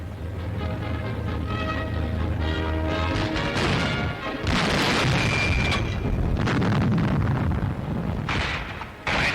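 An English tank destroyed near Sollum in a 1941 wartime newsreel, with loud crashing explosions and heavy booms that fill the scene, over a continuous rumbling battle din and no speech.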